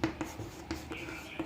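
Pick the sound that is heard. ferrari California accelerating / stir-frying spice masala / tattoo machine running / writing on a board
writing on a board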